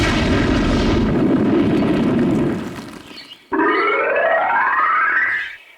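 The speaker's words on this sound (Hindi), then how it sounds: "इसे उड़ा देता हूँ।" A cartoon explosion blasts open a door in Oggy and the Cockroaches, a loud rumbling boom that fades, followed by a rising whooshing effect that sweeps upward.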